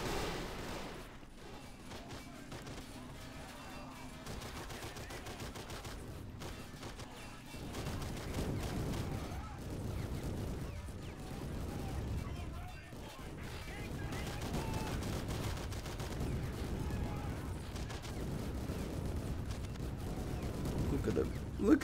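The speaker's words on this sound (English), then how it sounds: "50 cal RPG bolts to try and destroy these tanks." Dense gunfire and explosive RPG bolt impacts rumble through a Men of War: Assault Squad 2 battle against tanks. The bursts are heavy and continuous, and a voice talks over the noise throughout.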